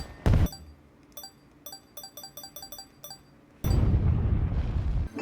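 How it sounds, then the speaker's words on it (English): A loud boom opens, followed by a run of bright, rhythmic chiming tones, then a sustained roaring rumble of a big video game firework explosion near the end, in Nintendo Switch 2 Welcome Tour. "Boom, big firework, right?"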